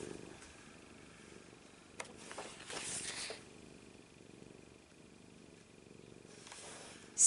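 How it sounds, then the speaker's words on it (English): A small cat purring softly and steadily near the microphone, a low continuous rumble with a few brief rustling noises and no talking. "Little cat."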